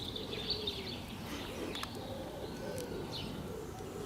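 Birds call outdoors, with soft cooing and scattered chirps and tweets at a moderate distance over a steady ambient hiss, with no talk.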